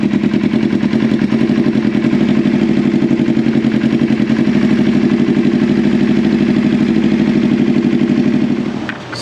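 Motorcycle engine started for a couple of seconds after an oil change, running in a loud, close, steady clattering idle that cuts off near the end, with no talk over it.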